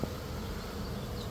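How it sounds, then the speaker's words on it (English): Honeybees from two packages shipped from Georgia buzz in a steady, dense drone close by, the hum filling the space evenly throughout without pause. "we just received these two sets of bees"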